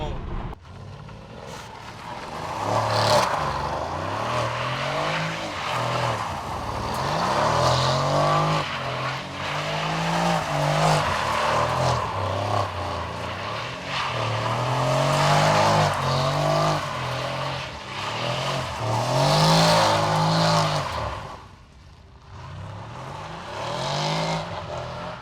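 A convertible car drives past and revs, its engine rising and falling in repeated surges, loud and close, with people's voices talking over it.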